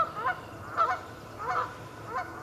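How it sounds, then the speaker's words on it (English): Geese honk outdoors at a moderate distance, four separate calls spaced out over a low background hum, with no one talking. "You hear the geese behind me?"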